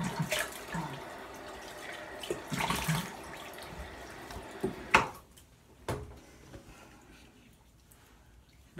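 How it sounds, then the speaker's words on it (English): Running tap water splashing into a sink for a post-shave rinse, a steady close gush with splashes for about five seconds, then the flow stops, leaving a few drips and knocks. "let me get rinsed up"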